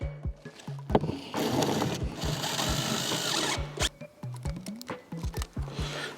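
A power drill drives screws to fix an OSBLOCK corner block in place. Short stop-start whirs with a steady buzzing pitch and a longer run in the middle, up close, with no talking.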